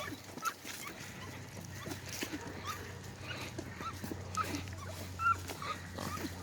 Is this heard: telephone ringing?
no